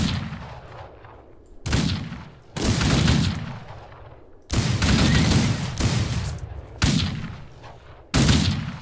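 Gunfire in the Western video game Outlaws of the Old West: a series of loud, sharp shots spaced a second or two apart, each decaying into a ringing, echoing tail, with no talking over them.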